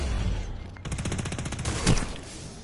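Rapid bursts of shotgun fire in the video game Destiny, a close, loud string of repeated blasts with a heavier boom near the end.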